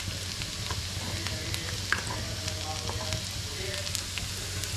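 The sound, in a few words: frying in pan with chili flakes added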